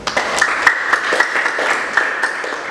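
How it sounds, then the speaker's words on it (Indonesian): A classroom of students at a vocational automotive school breaks into brief applause, scattered claps rippling across the room for a few seconds. "Tepuk tangan untuk kalian semua."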